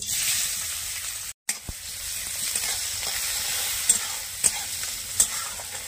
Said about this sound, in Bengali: তেলটা গরম হয়ে গেছে, কুচিয়ে রাখা পেঁয়াজ দিয়ে দিচ্ছি